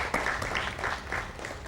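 Audience applause for a panelist at a sports-and-development talk event, a steady patter of clapping that holds at moderate level throughout the short stretch with no voices over it.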